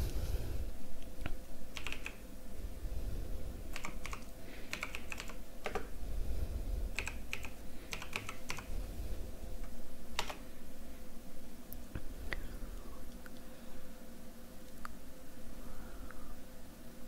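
Someone types a name into an online university exam form on a computer keyboard, with bursts of light key clicks separated by short pauses over a steady background hiss, near and moderately quiet.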